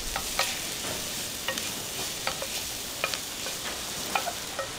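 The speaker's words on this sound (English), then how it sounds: "Stir your sweet potato and let it get nice and coated with those spices." Sweet potato being stirred with spices in a pot for a winter stew: soft sizzling underneath with a spoon scraping and clinking at a slow, irregular pace, close and fairly quiet, with no voices.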